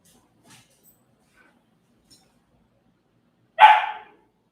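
A single sharp dog bark rings out nearby after a few seconds of near silence broken only by faint small sounds.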